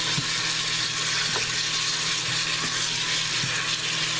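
Beef tips sear in a Farberware pressure cooker with a constant bright sizzling hiss from start to finish and a few faint clicks under it.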